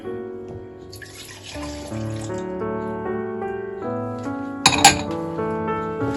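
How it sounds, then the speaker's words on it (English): White vinegar and dry white wine trickle steadily into a vessel with a bright, resonant pouring tone that rises in pitch as it fills, capped by a sharp clink of glass near the end. "we add the white vinegar and dry white wine."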